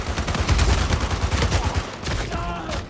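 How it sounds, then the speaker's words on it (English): Rapid gunfire in Uncharted 4, a burst of repeated shots fired through a wall, loud and dense for most of the stretch with a brief dip near the end. "that dude's still shooting through the wall"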